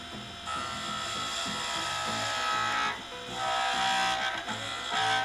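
Skew chisel rough-turning a reclaimed Tasmanian oak pen blank on a lathe, a steady dry scraping and chattering rasp with brief shifts in intensity as the cut changes.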